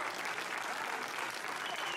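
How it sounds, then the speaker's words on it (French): Audience applause at a live show, steady dense clapping from a crowd heard at moderate distance for about two seconds. "on peut vraiment les applaudir"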